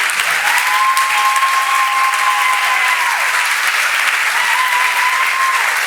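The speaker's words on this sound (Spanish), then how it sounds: "Renovamos el aplauso para Gastón Ugarte" Loud, sustained applause from a university audience for speaker Gastón Ugarte, continuous and even, with a faint steady tone running beneath the clapping.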